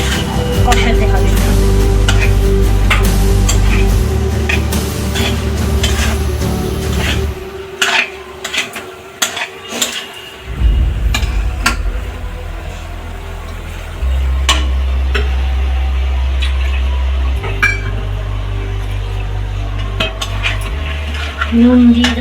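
Soybean rezala being stir-fried in milk in a pan, with continuous sizzling, spoon scraping and clinks against the pan; it briefly quiets midway, and a voice speaks over parts of it.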